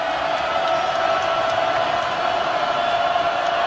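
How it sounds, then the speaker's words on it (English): A basketball arena crowd at a Delaware at Maryland game in the final seconds, a steady loud roar of many voices that holds a constant level throughout. "Under 20 seconds, this crowd getting loud."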